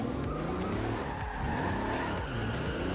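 Ford Capri in the racing game Forza Horizon 2, its engine droning steadily with tires squealing and skidding, mixed with continuous game effects at a moderate, even level.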